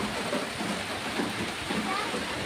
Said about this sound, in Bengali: খুব বৃষ্টি